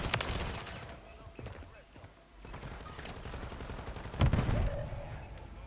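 Gunfire in a first-person shooter video game, with a few sharp shots and a burst near the end over a busy game soundscape.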